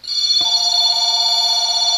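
A telephone rings loudly and steadily at close range, a continuous high electronic tone joined by a lower ringing layer after a brief click, with no talking.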